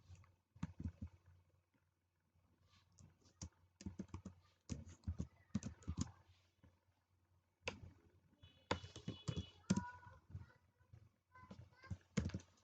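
Keys on a computer keyboard are typed in short irregular bursts of soft clicks and taps, close by and fairly quiet, with pauses between runs.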